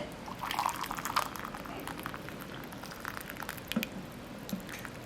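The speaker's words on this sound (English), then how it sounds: "I'm going to add the water in." Boiling water pours into a measuring cup for a lilac jelly recipe, a soft continuous trickle with small splashes and drips, faint and close, with no talk.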